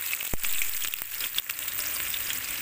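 Two small chopped onions hit hot oil left from frying eggplant for a spicy salan, giving a sharp thud and then a bright, continuous sizzle close up.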